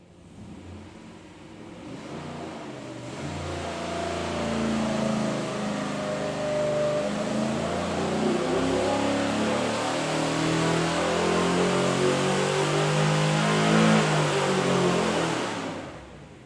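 A 370ci LY6 GM truck V8 runs on a test stand, its engine noise rising from idle into a loud, sustained high-rpm roar that holds steady for around fifteen seconds before easing off near the end, with no talking.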